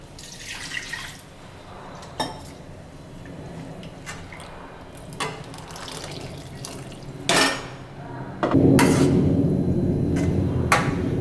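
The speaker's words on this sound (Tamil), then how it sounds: "நீங்கள் மிக்ஸி ஜார்லேயே தண்ணி ஊற்றி அதை கலக்கி ஊற்றிடலாங்க." Water is poured from a mixer jar into a pot of tomato kuzhambu for idli. Scattered light clinks and drips of utensils come first, then a steady, close pour runs continuously to the end.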